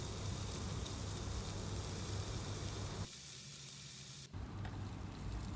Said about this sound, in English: add the sliced sausages into the pan, and on medium to high flame we will stir them until they turn golden brown